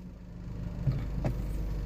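A car starts to roll forward slowly, a low steady engine hum close by with a couple of soft mechanical clicks, no voices heard.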